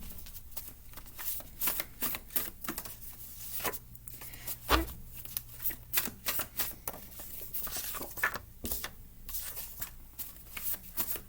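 Oracle cards being handled, shuffled and drawn from a deck, a steady run of close, crisp riffling and slapping card sounds with irregular bursts and no talk.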